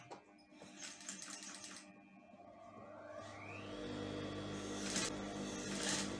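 A sewing machine stitches a skirt back piece with tiny pleats in short bursts of rapid whirring, starting and stopping, fairly faint and close, with a rising whine midway.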